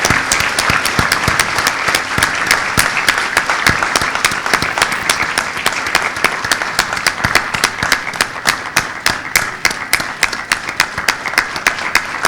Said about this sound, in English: Let's clap and put our hands together for this momentous